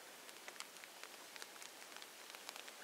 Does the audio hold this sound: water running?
no